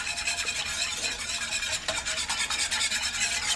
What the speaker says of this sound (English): and whisk this in because you want the gelatin to soften before you heat it